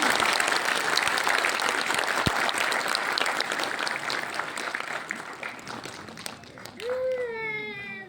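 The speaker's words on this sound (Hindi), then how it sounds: "कृपया जोरदार तालियों की गूंज सुनाएं।" Audience applause at an event, a loud, dense round of clapping from a crowd that gradually thins out, with children's voices audible near the end as it fades.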